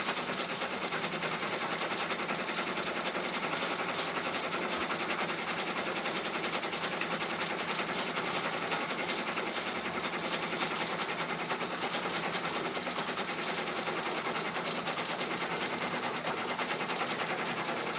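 An embroidery machine sews a thick satin stitch on a bag tag, giving a steady, dense mechanical whir that runs evenly and continuously throughout, with no voices.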